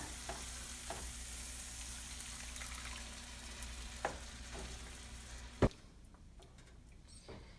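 Water is poured into a simmering Kerala-style egg curry, which sizzles and bubbles steadily in the pan, with a sharp splash near the end before the frying hiss eases.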